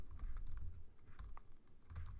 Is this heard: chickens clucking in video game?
no